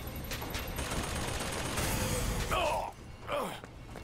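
Gunfire in Bioshock Infinite crackles as a dense volley of rapid shots over mechanical clatter, followed by a couple of voiced exclamations in the game.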